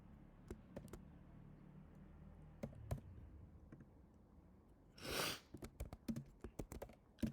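Code being typed on a computer keyboard, with close, quiet key taps in sparse irregular clicks at first, then a brief louder rustle and a faster flurry of keystrokes near the end.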